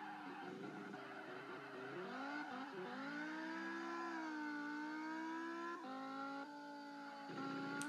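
A Dodge Viper SRT ACR in Assoluto Racing drives hard, its engine note rising and falling through gear changes, with tire squeal under the continuous engine roar.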